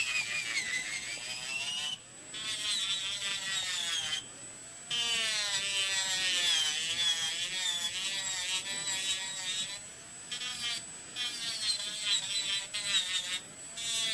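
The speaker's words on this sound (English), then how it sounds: "So I'm just filing off the glitter and the color that I had encapsulated on the top." An electric nail file buzzes as it files glitter and color off a nail, a thin high whine that rises and falls in pitch and stops briefly several times.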